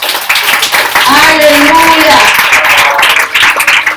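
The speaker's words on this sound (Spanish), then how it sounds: "Denle un fuerte aplauso al Señor." A church congregation gives a loud round of applause to the Lord, clapping steadily and close throughout while a voice shouts praise over it.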